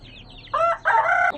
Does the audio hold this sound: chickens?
yes